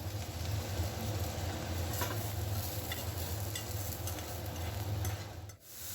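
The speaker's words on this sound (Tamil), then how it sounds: "பச்சை வாடை போகிற அளவுக்கு நல்லா வதக்கிக்கோங்க." Pirandai (adamant creeper) sautéed and stirred in a kadai for a Tamil thogayal, a steady close sizzle with soft scraping stirs throughout, briefly dipping near the end.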